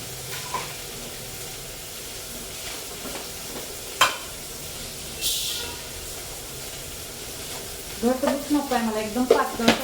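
Onions frying with salt in a pan, a steady sizzle with occasional stirring scrapes and a brief hiss, joined near the end by louder bubbling and spattering bursts.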